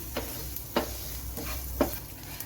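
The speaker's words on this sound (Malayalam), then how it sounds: "നമുക്കൊന്ന് നന്നായിട്ടൊന്ന് ഇളക്കി കൊടുക്കാം. കരിഞ്ഞു പോകാതെ ഇളക്കിയെടുക്കണം." Chili flakes frying in oil, with a low steady sizzle broken by four evenly spaced spoon strokes scraping the pan as the mix is stirred, close and fairly quiet, with no talking.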